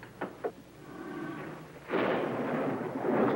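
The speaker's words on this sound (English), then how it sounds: "Looks like an electrical storm moving in." A couple of faint knocks give way to a sudden, heavy rumbling crash of thunder from an electrical storm that rolls on loudly to the end.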